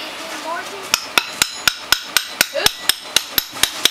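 Sharp, evenly spaced hammer taps ring out about a dozen times as a shaft is seated onto the output shaft of a Honda Foreman 500 rear axle, close and crisp with no talk.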